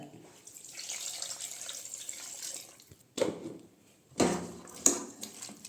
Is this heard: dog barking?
no